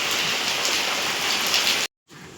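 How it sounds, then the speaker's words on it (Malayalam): Steady rain pours down in a dense, even hiss for nearly two seconds, then cuts to a brief silence before the wash of rain resumes. "അപ്പോൾ മഴ പെയ്തില്ലേ."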